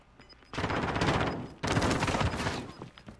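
Two loud bursts of automatic gunfire in the Call of Duty Warzone video game, each about a second long, rapid and close.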